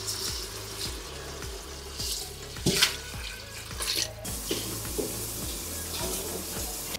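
Water pours from a tap into a cooking pot while making chicken mami, a steady rushing splash mixed with rhythmic kitchen clatter and brief louder knocks.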